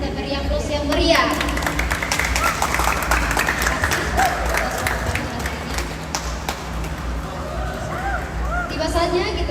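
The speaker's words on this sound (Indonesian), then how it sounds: "Mari kita beri aplaus yang meriah." Audience applause at a university expo event in Toraja, a dense burst of many hands clapping that rises quickly and holds steady for several seconds amid light crowd murmur.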